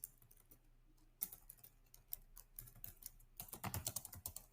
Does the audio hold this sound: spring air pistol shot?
no